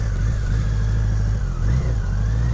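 A 1985 BMW K100RS motorcycle engine runs steadily while riding in cold weather, a continuous low, loud drone with slight swells in pitch and no voices.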